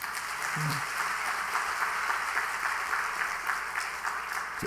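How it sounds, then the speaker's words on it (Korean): Congregation at a Korean church evening service applauding for the pastor, a steady wash of clapping held at a moderate level for several seconds. "우리 목사님에게도 박수 한번 하십시다"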